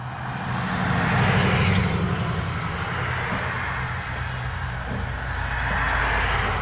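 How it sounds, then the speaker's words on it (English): Road traffic rushing past a corn field, a steady broad roar of vehicles swelling slightly as cars go by, fairly close and continuous with no talking. "Can't hear the tarp with all the traffic going by."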